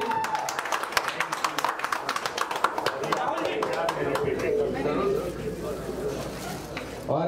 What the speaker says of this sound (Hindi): कुणाल सिंह जी को तो जोरदार तालियां होनी चाहिए